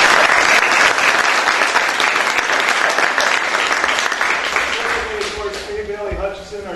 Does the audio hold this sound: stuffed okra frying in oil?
no